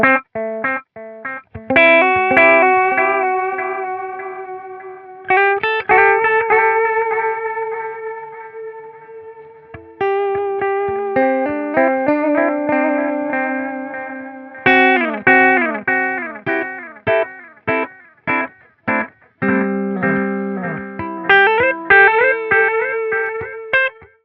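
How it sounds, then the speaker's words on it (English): An electric guitar plays through a cheap analog delay pedal, plucked notes and chords ringing out and echoing in repeated trails, loud and alone across the passage. "I really have no problem with the way that those echoes sound."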